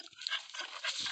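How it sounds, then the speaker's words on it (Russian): A puppy pants in quick, close breathy bursts in the horror video game Metel, a short run of soft huffs with no talk over it. "тут у нас есть добренькая собачка."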